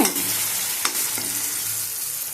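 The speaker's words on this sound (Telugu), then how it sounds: "ఎర్రగడలు కొంచెం మగ్గుతానే టమాటా ముక్కలు వేసుకోవాలండి" Chopped onions and tomatoes sizzle loudly in a pan while chicken curry is cooked, a steady close frying hiss with a few sharp clinks of a spoon stirring, no talking.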